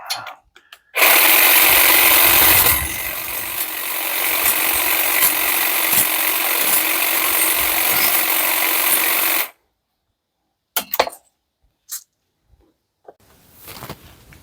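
A Parkside 20V cordless hedge trimmer (Lidl PHSA 20-LI C3) cutting branches, its loud buzzing blade drive running steadily for about eight seconds, then cutting off, followed by a few short clicks and rustles.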